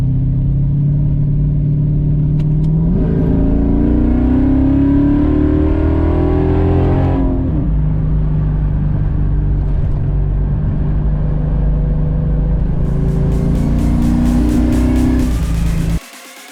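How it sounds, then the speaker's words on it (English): Pontiac Trans Am with a 350 small block V8 driving, a loud, close rumbling engine that rises in pitch through an acceleration, eases back to a steady cruise and then climbs again, with no talk. "As far as the engine, like I said, it's 350 small block."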